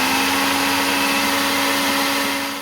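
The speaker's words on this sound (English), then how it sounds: "we're going to turn it into a powder with a spice grinder" Electric spice grinder grinding dried mushroom into powder, a loud, steady, high-pitched motor whir running throughout and starting to die down at the very end.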